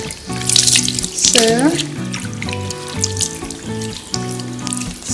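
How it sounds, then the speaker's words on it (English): Tap water running while a woman's hair is washed at a basin, a steady splashing flow under a person speaking briefly, with a tonal hum throughout. "we open the water, and then we try to wash her hair"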